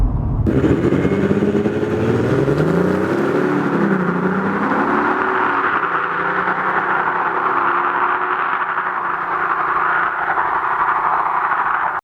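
A BMW 335d Touring diesel estate accelerates hard, its engine note climbing steadily in a loud, continuous rising drone heard from inside the car, with no talking.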